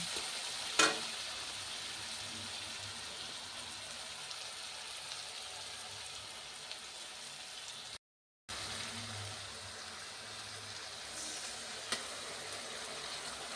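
Cashew paste and poppy seed paste fry with sugar, cumin, turmeric and Kashmiri red chilli powder in a pan. A steady close sizzle runs under intermittent stirring scrapes, with a brief dropout partway through and no talking.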